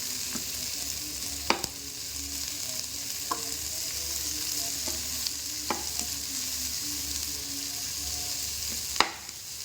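Spicy Punjabi okra masala fries in a pan with a steady broad sizzle, broken by a few sharp clicks and scrapes of a spoon stirring against the metal.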